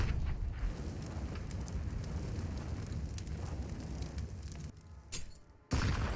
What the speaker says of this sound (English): A late incendiary to stop the boost.